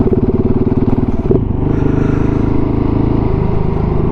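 A KTM 690 SMC R single-cylinder motorcycle, fitted with a 15-tooth front sprocket, thumps along the road in cold weather with a loud, pulsing engine note, shifting and settling into a steady drone close to the rider.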